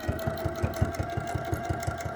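A sewing machine stitches a fabric bag, giving a quick, even run of soft mechanical thumps at about five per second over a steady motor hum, close and fairly quiet.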